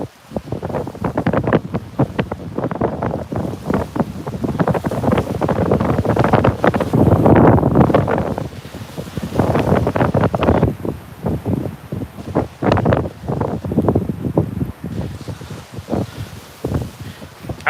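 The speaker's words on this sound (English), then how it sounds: "We're getting some 50-mile-an-hour gusts." Strong wind storm gusting at up to 50 mph while fishing, roaring loudly and continuously close to the microphone, with surging gusts and buffeting bursts throughout.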